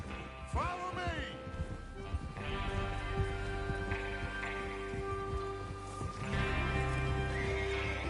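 Horses whinny and neigh loudly near the start in a video game, followed by steady clip-clopping hooves and shuffling, with a second whinny later; voices murmur in the background.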